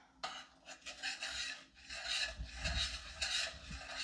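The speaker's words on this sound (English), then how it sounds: "Mix it in with the butter." White granulated sugar being worked into butter in a bowl for snowball cookies, a steady gritty scraping and rubbing that comes in close, repeated strokes, with no talking.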